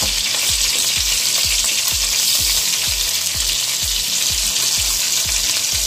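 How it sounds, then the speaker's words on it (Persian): Fish frying in hot oil in a pan, a loud continuous sizzle with rhythmic low thumps or scraping strokes repeating about twice a second, close and without voices. "ماهیتون رو سرخ کنید که خونتون روی ماهی نگیره"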